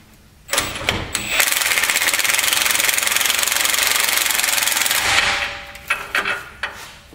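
An impact wrench snugs down U-bolts on the leaf springs of a Ford F450 truck, giving one short burst and then a sustained rattling hammer of about four seconds, followed by a few sharp clanks.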